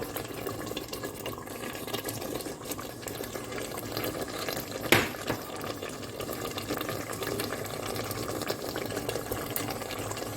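Water poured into a cooking pot holding chopped okra, a continuous soft splashing and trickling with one brief sharp clink partway through, close and fairly quiet, with no talking.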